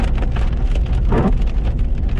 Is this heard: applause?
no